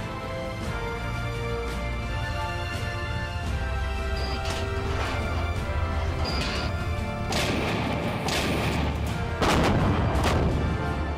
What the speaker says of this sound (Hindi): ये वो जगह है जहां दोनों पक्षों के बीच लगातार बिना रुके कई दिनों से गोलाबारी हो रही है